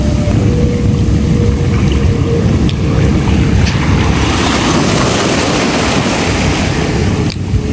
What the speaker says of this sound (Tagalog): bumanat yung alon